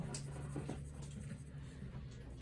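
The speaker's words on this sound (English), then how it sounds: "stay in control of our pencil" A sharp graphite pencil shades a Bargue drawing exercise on A4 paper with a steady, soft scratchy rasp of repeated strokes, close and continuous with no talk.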